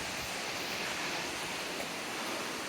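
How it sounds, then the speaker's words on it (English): A waterfall in Brecon Beacons National Park, Wales, heard as a steady, broad rushing roar of falling water, constant and moderately distant with no voices. "I think I found the second waterfall"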